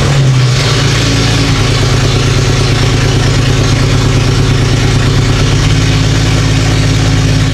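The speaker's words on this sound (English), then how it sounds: "I'll try to start it." A Jeep 4.0L engine fitted with a newly replaced exhaust manifold catches and starts, then settles into a loud, steady, rumbling idle that continues close by.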